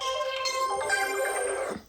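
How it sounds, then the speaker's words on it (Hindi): A phone rings with a steady, tonal electronic ringtone that holds at an even level, then fades away at the end. "अब फ़ोन आ रहा है, दिमाग ख़राब, पता नहीं किसका फ़ोन आ रहा है।"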